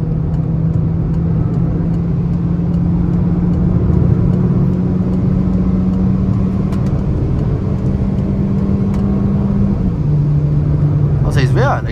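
Peugeot 208 Allure 1.6 automatic accelerating to overtake on the road, a steady loud cabin engine drone with small shifts in pitch as it pulls, a voice talking throughout.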